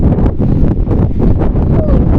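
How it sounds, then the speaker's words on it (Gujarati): Strong wind gusts across an open farm field, a dense, continuous roar with rumbling buffeting against the microphone throughout. "ફૂલ પવન છે"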